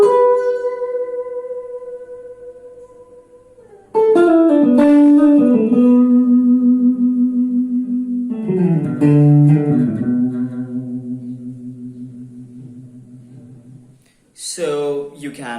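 An electric guitar played with very fast vibrato sustains a few long, wavering notes, each sounding clearly and close. They carry effects and reverb, and each fades slowly before the next note is struck, with no talk over them.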